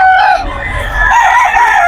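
Chickens and roosters at a predawn poultry market in Bocaue, Bulacan, crowing loudly and close, with overlapping calls and clucks amid crowd noise.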